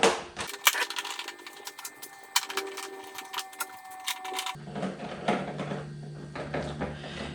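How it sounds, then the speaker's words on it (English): Screws being refitted with a Torx driver on a BMW F900XR motorcycle during an air filter replacement, heard as close, sharp clicks and ticks, then a steadier low mechanical hum with softer rattles. "Now you're gonna reverse what you did before and put the screws back in."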